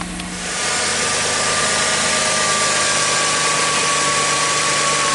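A Chrysler car engine idles steadily with a continuous loud hum and vibration, with no talk over it.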